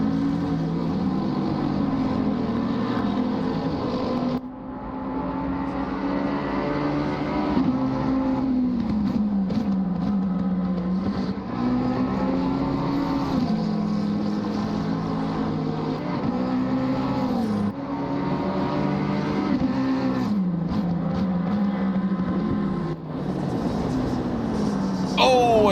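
GT3 race cars, led by an RSK Racing Team McLaren, roll out onto the Oulton Park circuit, their engines droning and revving in rising and falling pitch, with a few brief dips as gears change.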